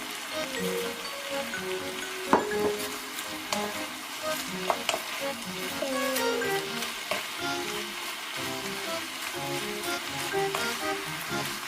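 Spicy Korean pork (jeyuk bokkeum) with added vegetables stir-fried in a pan, a continuous close sizzle with rhythmic scraping and tossing and occasional sharp utensil clicks, with no voices.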